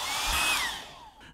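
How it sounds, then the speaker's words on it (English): A hairdryer drying a watercolour painting blows in a brief loud whoosh, its motor whine sliding down in pitch as it winds off, close and alone. "I'm going to get my hairdryer out and give this a quick whoosh"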